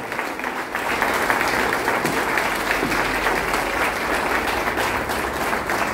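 A church congregation breaks into loud, sustained applause that swells within the first second and holds steady and full throughout.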